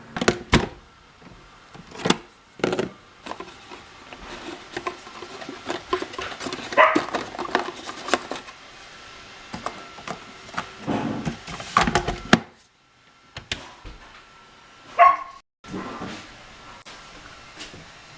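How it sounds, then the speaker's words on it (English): Small puppy yapping and barking indoors, sharp high yips in scattered bursts with pauses, close by amid household knocks and clatter. "Yappy puppy today."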